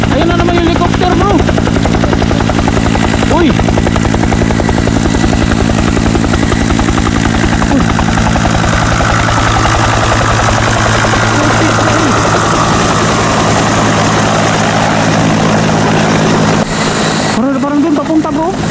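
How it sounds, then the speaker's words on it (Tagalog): A helicopter drones loudly and steadily overhead, its rotor thrum filling the air while someone talks over it briefly. "ayun na naman yung helicopter bro"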